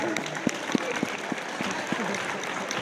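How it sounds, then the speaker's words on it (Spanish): Audience applause at a live comedy show by Los Huanacos de la Risa in Sapallanga, 2022: steady, dense clapping with sharper individual claps standing out, sustained for a few seconds. "Regálale un fuerte aplauso a Cholita Arcada."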